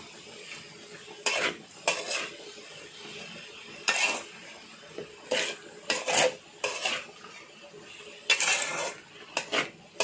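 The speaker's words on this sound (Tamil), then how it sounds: "இப்போ நம்ம நல்லா மிக்ஸ் பண்ணிக்கலாம்" A utensil scrapes and clanks against a pan as shredded cabbage with salt is stirred, in short irregular bursts of metallic knocks with quiet pauses between, close and fairly soft with no talking.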